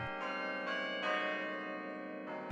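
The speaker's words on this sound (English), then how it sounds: "the tolling chimes in the McGraw Clock Tower have provided a reassuring heartbeat to campus life at Cornell University" Tolling chimes of the McGraw Clock Tower bells at Cornell University in Ithaca, New York, with several bell strikes ringing into one another in a sustained, resonant peal.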